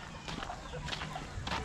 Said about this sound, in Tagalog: Dami nating alagang manok.